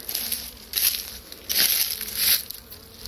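A honeybee buzzes close around a beekeeper checking an agitated colony outdoors, its hum swelling in several brief passes as it circles near, then fading between approaches.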